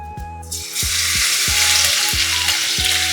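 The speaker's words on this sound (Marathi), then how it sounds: "आपलं तेल तापलेलं आहे आपण लसूण टाकू" Garlic dropped into hot oil for a traditional prawn and okra dish, bursting into a loud, close, continuous sizzle that holds steady over a rhythmic low mechanical thumping underneath.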